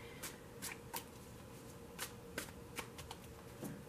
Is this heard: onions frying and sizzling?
no